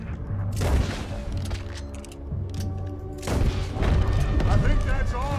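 Cannon fire and explosions in Red Dead Redemption 2, set on Guarma: heavy booms and bursts of gunfire roll through the scene in two loud waves, with voices talking over the barrage.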